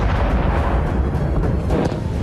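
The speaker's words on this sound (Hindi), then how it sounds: "मिसाइल गिरते ही जोरदार धमाका हुआ और फिर चीख पुकार मच गई।" A missile strike in Kyiv leaves a dense, sustained roar of explosive rumble that fills the whole clip at high loudness, with no clear separate blasts.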